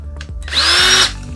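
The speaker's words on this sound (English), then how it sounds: "so here I have it where it's spinning faster, or you can go slower" Combination hammer drill spinning at high speed, a loud close whine that rises from a low idle hum, holds steady for about half a second, then drops away, with no talk.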